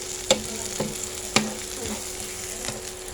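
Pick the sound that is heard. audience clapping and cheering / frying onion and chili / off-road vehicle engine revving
frying onion and chili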